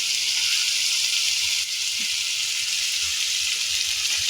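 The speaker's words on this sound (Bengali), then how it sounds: "এবার আমরা দেবো আদা রসুন।" Ginger and garlic go into onion and tomato already frying in a pan, giving a steady, close, even sizzle with a bright hiss throughout and no voices.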